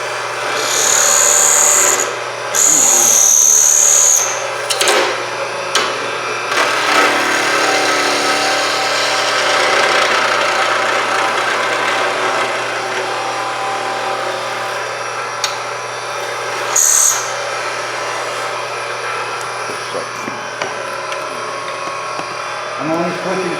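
Wood turned on a lathe with a skew chisel, a continuous loud hissing cut over a steady motor hum, broken by a few brief high-pitched squeals as the tool bites.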